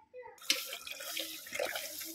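Water runs and splashes as a water vessel for peacocks is washed out, a brief close sloshing and trickling with small clunks of the container.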